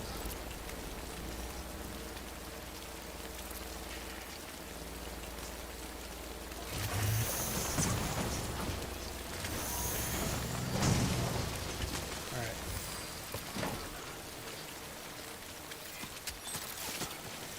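Rain falls steadily in the Death Stranding video game, a continuous hiss of drops that swells louder partway through with brief heavier bursts, heard alone without voices.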